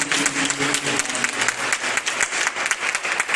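A church congregation claps together in sustained, lively applause during an Easter service, a dense patter of hands at moderate distance with no voices on top.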